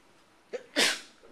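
A single sharp sneeze, close and loud, preceded by a quick intake of breath, followed by a faint voice at the end.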